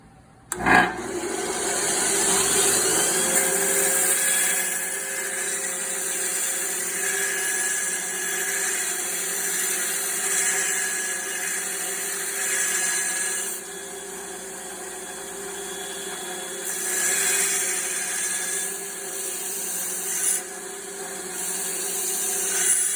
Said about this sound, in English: I'm going to turn the grinder on. I'm going to start with this edge, then I'm going to try to do the valley, and then I'm going to do the end of the blade.